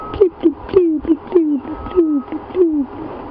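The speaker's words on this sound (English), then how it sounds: "you can hear a grey hornbill in the distance" A series of hooting, descending calls from a grey hornbill in the distance, repeated about six times in steady rhythm, moderately loud against soft background chatter of other birds.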